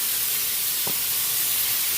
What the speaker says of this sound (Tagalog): Habang nagigisa po tayo ng ating pork menudo